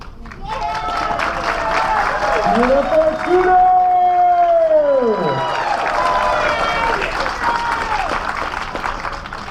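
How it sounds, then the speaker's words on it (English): A crowd claps steadily and cheers with hoots and hollers through a fursuit dance competition. The applause is loud and continuous, with a rising and falling whistle-like tone briefly heard over it. "keep up the clapping, keep up the hooting and hollering"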